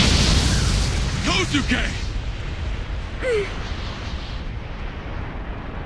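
Cartoon bomb blasts in an anime fight, with a heavy, rumbling explosion roar filling the scene while a voice shouts a name over it.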